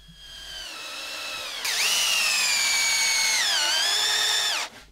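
A power drill drives 90mm decking screws into a wooden garden table top, a steady whine that rises in pitch and loudness as the screw bites, holds for about three seconds, then dips and cuts off.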